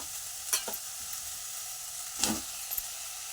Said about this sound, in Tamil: இது வதங்கினதுக்கப்புறம் நம்ம தக்காளி அள்ளி போட்டுருவோம்